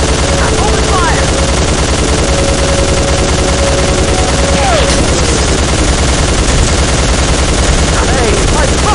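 Sustained automatic gunfire from the video game Soldier of Fortune 2, loud and continuous, with rapid bursts and shots layered under background game sounds and occasional voice.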